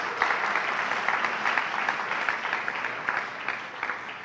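Audience at a university state-of-the-university address breaking into applause, a steady, fairly loud clatter of many hands with scattered sharper claps.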